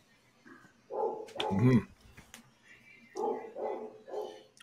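A dog barks from across the street in bursts of yaps and bow-wows, moderately loud, with a brief murmured voice between barks.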